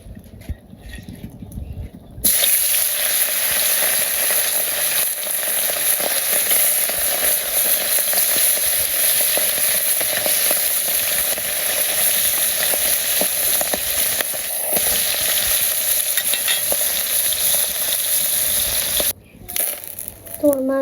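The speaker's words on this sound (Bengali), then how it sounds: "তেল গরম হয়ে গেছে, মাছগুলো দিয়ে দিই।" Fish fries in hot oil in a village kitchen, a loud, steady sizzle that starts abruptly and crackles on without pause, then cuts out briefly near the end, with brief voices at the start and close.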